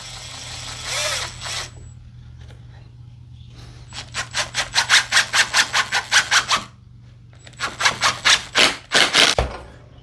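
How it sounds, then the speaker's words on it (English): A power drill drives screws into a wooden birdhouse in two bursts, each a loud pulsing whir with a rhythmic grinding stutter, separated by a quiet pause, with a faint steady hum underneath. "Hopefully it doesn't move when we start screwing it"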